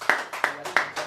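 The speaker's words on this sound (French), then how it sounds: "Acclamons pour la gloire de Jésus." A church congregation claps for the glory of Jesus, with several sharp, evenly spaced handclaps in a steady rhythm, close and fairly loud with no voices over them.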